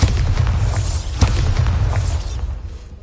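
A Bombarda explosion spell going off in a Harry Potter video game: a loud, deep booming blast with a sharp crack near the middle, rumbling continuously before fading out at the end.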